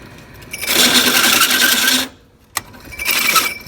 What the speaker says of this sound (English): we are done drilling out these holes